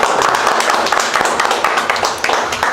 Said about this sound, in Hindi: तो सबसे पहले इस कार्य के लिए सब आदमी ताली मार दीजिए।